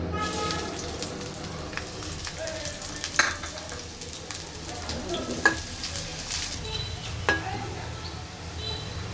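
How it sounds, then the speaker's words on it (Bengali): Chopped onions fry in a little white oil, with a soft steady sizzle and a few sharp scraping clicks of stirring in the pan, fairly quiet and close. "পেঁয়াজটা ভাজা হয়ে গেছে"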